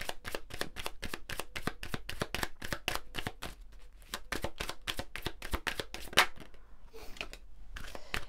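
Oracle cards are shuffled close up in a long run of quick, crisp riffling flutters, a rapid, even rhythm with brief pauses between bursts and no speech.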